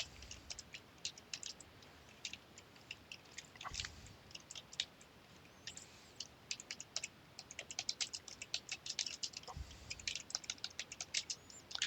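Code being typed on a computer keyboard: quick bursts of close, crisp key clicks, irregular and growing denser toward the end, with no talking.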